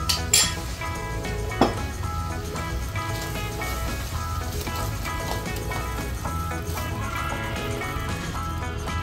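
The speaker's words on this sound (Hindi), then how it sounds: "अब हम इसमें करीब 2 टीस्पून फेटी हुई दही डालेंगे और इसको फर्दर अच्छे से भूनेंगे जब तक कि पूरा ऑयल सेपरेट ना हो जाए" Chicken masala with whisked yogurt frying in a pan, a low steady sizzle under the clink and scrape of a spoon against the pan, with a couple of sharper knocks near the start.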